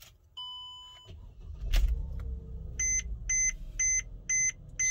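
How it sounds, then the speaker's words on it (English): A Mercedes-Benz GLK350 has its ignition switched off and on, producing steady electronic tone chimes, then a sharp click and low cabin hum followed by a repeating series of short beeps in an even rhythm. "I'm going to cycle the ignition."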